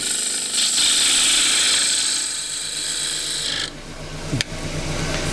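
A half-inch spindle gouge cuts wood on a lathe while turning a small dish, making a steady rasping scrape that stops abruptly partway through, followed by a brief squeal and a lower hum.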